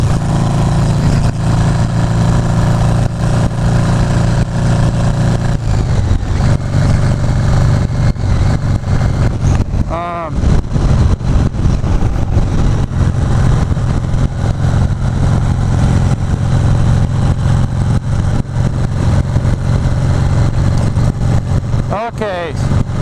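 A motorcycle engine idles steadily and loudly from close by for the whole stretch, with a continuous low rumble, a slight shift in tone partway through and a brief rev or blip near the end.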